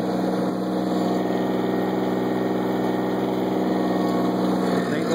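Case 430 and 318 tractors idle at a plow day with a steady, loud mid-pitched engine chug and a constant mechanical drone, unchanging throughout and with no voices.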